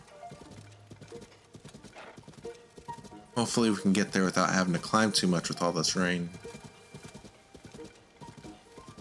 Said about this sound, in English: I don't want to ride the horse anymore.